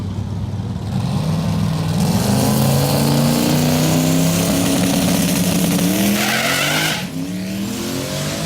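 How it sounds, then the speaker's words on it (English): A drag-racing Chevy-powered Mustang on new radial tyres does a long, loud burnout at the strip, its engine roaring steadily while the tyres squeal continuously for several seconds, close and alone. "Good burnout."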